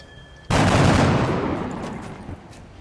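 A loud, close gunshot blast in the video game XCOM: Enemy Within hits suddenly, then a long rumbling roar and echo slowly fades over about two seconds, with no talking.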